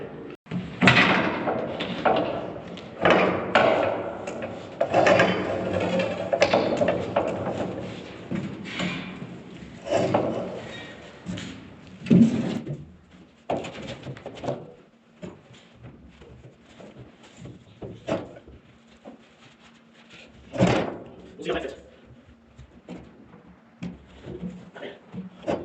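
Barn doors on a cattle farm thud and scrape shut and metal bars drop into place, a series of loud knocks and bangs in the first half, then sparser clunks with brief voices.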